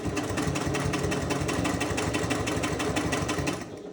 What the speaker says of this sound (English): I've got mine on a 3mm stitch length, but you can use whatever stitch length you're comfortable with